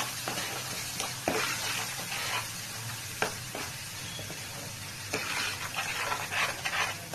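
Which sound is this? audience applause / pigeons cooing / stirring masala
stirring masala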